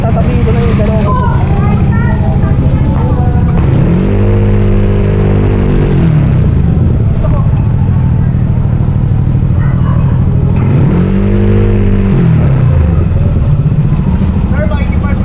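Two motorcycles being parked on a ride to Pangasinan, engines running close and loud, a steady low idle drone with two brief throttle revs that swell and fall back, over constant rushing wind noise.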